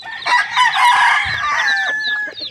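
A hen clucks and calls loudly and close by in a small backyard chicken coop, a busy run of bright, overlapping squawks lasting a couple of seconds.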